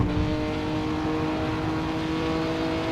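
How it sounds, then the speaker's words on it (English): Engine of a 1950s Formula 1 race car in the Assetto Corsa video game at Monza, a steady loud drone that holds a constant pitch throughout, close up and without talk. "there's another car coming at me"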